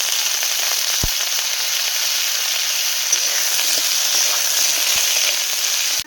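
Taro stolons fry in hot oil with panch phoron, dried red chillies and chopped green chillies, giving a steady, loud sizzle throughout with a few sharp pops and clicks from the pan.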